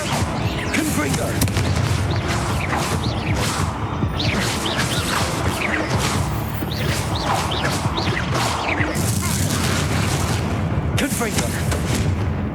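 Confringo blasting spells explode over and over in Hogwarts Legacy during a fight with spiders, a continuous barrage of loud booming blasts and crashes with game voices mixed in.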